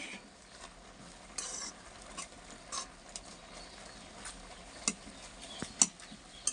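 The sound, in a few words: stirring masala into Maggi in a pan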